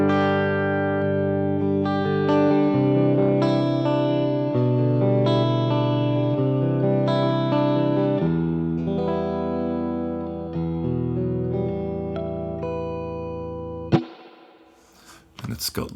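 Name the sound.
guitar through AmpliTube 5 Fender Clean Champ amp simulation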